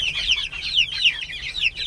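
Olive egger chicks cheep and cluck in quick, high, repeated calls, a close, lively chorus under a heat lamp in a coop with no talking.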